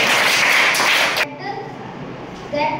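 Schoolchildren clapping together in a government school classroom, a loud burst of applause-like claps for about a second before cutting to quieter room sound with voices.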